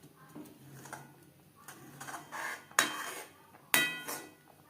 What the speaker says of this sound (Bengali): এইভাবে কড়াই 4 সাইডটা পরিষ্কার করে দেব।